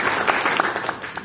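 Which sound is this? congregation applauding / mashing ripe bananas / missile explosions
congregation applauding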